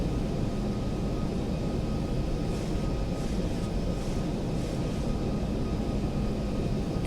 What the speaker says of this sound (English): I'm going to hit reverse thrust and push that throttle forward as far as I can go